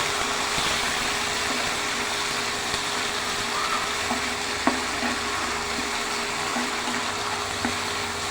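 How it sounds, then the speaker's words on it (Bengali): Ground spice paste fries in a pan with a continuous low sizzle, a spoon occasionally knocking and scraping as it is stirred, heard close up with no voices. "সেই মশলাটা দিয়ে দিব দিয়ে ভালো করে নেড়ে নিব আমি"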